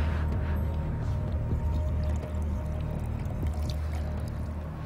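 Homemade biodiesel mixture pours steadily through a filter into a tank, a continuous close liquid rush with a low rumble that runs without pause from start to finish.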